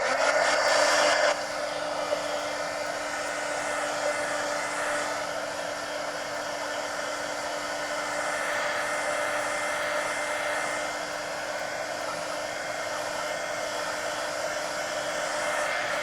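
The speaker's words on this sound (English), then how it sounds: "now let me dry this before I do anything else" A hair dryer blows air over a mixed media adult coloring page, a loud steady whirring drone that runs continuously, slightly louder for the first second and then constant, with no voices.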